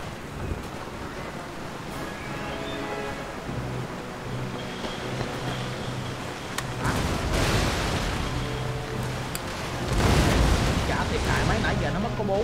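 Naval cannons fire a broadside in Total War: Empire, a rolling mass of deep booms and rumble that swells into louder bursts, under a continuous voice talking.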